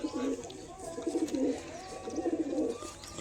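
Pigeons coo in soft, repeated rounded calls from close by in a home loft with young chicks present, the throaty phrases rising and falling in a loose rhythm.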